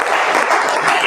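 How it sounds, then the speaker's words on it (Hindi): Students in a classroom clap together, a dense, loud burst of applause lasting about a second with no voices over it. "ताली बजाएं।"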